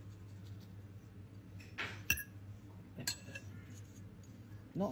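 A knife cutting into an air-fried jacket potato on a plate gives a faint scrape and two sharp metallic clinks, quiet and close against a low background hum.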